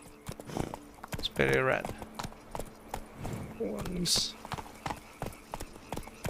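Horse hooves clip-clop in The Witcher 3 as an armored horse moves, a steady rhythmic trot heard under frequent talking and a few other game sounds.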